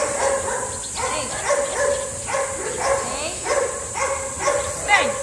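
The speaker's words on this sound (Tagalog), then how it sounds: "Yung aso." A K9 police dog barks and yips in a handling session, several sharp barks in an uneven rhythm over a steady background hiss, close and fairly loud.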